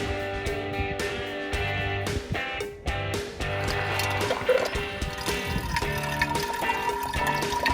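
Water runs from the faucet of a portable water dispenser in a steady splashing stream with some clattering handling noises, close up and without talk.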